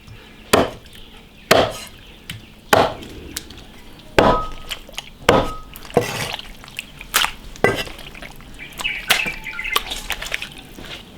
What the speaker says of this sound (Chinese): 牛筋也切一下。